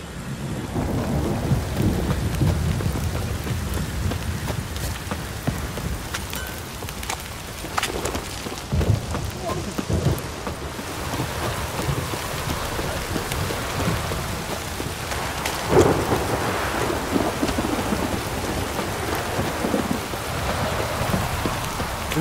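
Heavy rain pours steadily outdoors while deep rolls of thunder rumble through, loud and close at times, with no voices heard.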